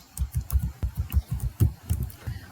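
Rapid clicking keystrokes on a computer keyboard while entering AutoCAD commands, a quick uneven rhythm of about a dozen taps, close and fairly quiet, with no voices.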